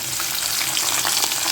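Garlic sizzles steadily in hot oil with cloves, cinnamon and dried red chilies, a dense continuous frying crackle with a few louder pops, close and alone without any voice.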